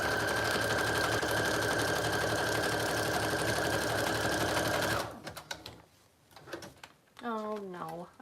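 A sewing machine runs loud and steady for about five seconds, then stops, followed by small handling clicks and a person speaking nearby.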